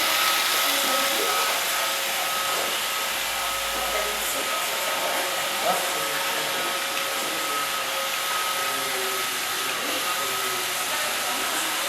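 An iRobot Roomba 560 robot vacuum cleaner running under remote control, a loud constant whirring motor drone with a steady high whine, close and unbroken.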